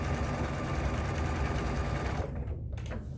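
A sewing machine stitches a quilted star table runner seam in a steady, fast mechanical whir, close and continuous, slowing and stopping near the end with a few faint clicks.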